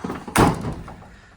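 A single heavy, hollow slam of a rusty old square-body Chevy/GMC truck door close by, with a brief metallic rattle trailing off afterward.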